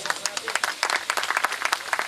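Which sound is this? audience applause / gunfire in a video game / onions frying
audience applause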